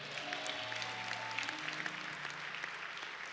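An audience at a motivational money talk claps in a continuous, moderately faint spread of applause, with a low sustained musical tone underneath.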